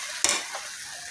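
Masala fries in a pan for palak pulao, a brief scrape of stirring followed by a soft sizzle, close and fairly quiet.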